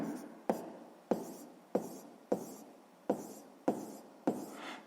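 Pen or pencil writing a math answer on paper, eight sharp evenly spaced taps or strokes, each fading quickly, close and fairly quiet with no speech.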